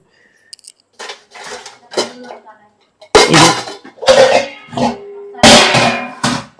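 Sharp metallic clanks and scrapes of biryani pots and a kadai being handled close by, coming in bursts with a person talking in between.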